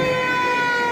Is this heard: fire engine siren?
yes